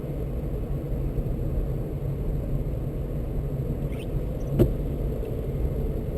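A manual transmission car drives through a corner, its engine giving a steady low rumble heard from inside the cabin, with a brief faint click partway through.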